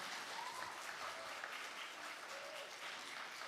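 Steady applause from a crowd at a congressional district environmental candidate forum fills the whole stretch, a dense even patter of many hands clapping at moderate distance.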